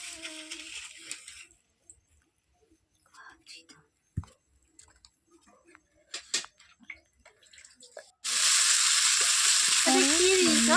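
Onion, ginger and garlic frying in oil in a wok come in as a loud, even sizzle in the final seconds, after a quieter stretch of scattered clicks and soft sounds.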